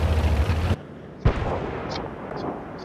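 A tank cannon fires once in the World of Tanks game, a sharp boom after a loud engine rumble cuts off, with a fading echo and a few small pings afterward.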